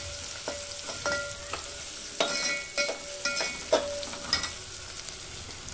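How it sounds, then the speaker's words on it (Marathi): A medium onion, finely chopped, sautéing in oil gives a soft continuous sizzle broken by repeated metallic clinks and scrapes of stirring, close and moderately loud, with no speech. "मग एक मीडियम साईजचा कांदा बारीक चिरून घेतला आणि तोही या तेलामध्ये आपल्याला"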